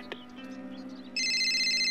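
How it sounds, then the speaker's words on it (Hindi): A telephone at home rings in a drama scene, a brief tone at first and then a loud, steady electronic ring that holds to the end, with no talk over it. "फोन आया है, एक मिनट।"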